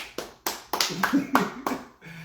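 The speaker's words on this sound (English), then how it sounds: "Give yourself a hand clap." A few sharp, separate hand claps land close by at an uneven pace, roughly seven in all, with voices talking and laughing between and over them.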